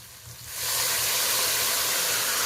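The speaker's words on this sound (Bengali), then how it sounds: "এই প্লেটটা দিয়ে অল্প জল দিয়ে দিলাম" Water splashed into a hot pan of chili powder, turmeric, cumin and coriander powder, cooking for a katla fish head and potol dish, bursts into a loud, steady steamy hiss that starts after a brief quiet moment and keeps roaring with no talk.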